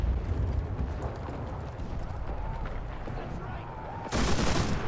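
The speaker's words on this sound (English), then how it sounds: "Let's try the machine gun Browning." Browning machine gun firing in the WWII shooter game Enlisted, a dense stream of rapid shots within busy battlefield noise and explosions, with a sharper, louder burst near the end.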